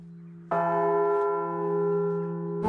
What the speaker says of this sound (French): Avant de partir, la cloche Étienne a eu le droit de sonner une fois pour Villedieu et ses habitants.